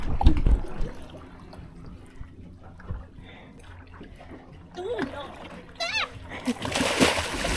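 A person splashes into sea water from a boat's ladder while sailing between Poros and Porto Cheli, with several short splashes and churning water close by, under people talking and calling out.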